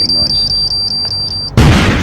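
A police station alarm beeps in a fast, steady series of high electronic tones after an explosion, then a sudden loud burst of noise cuts in.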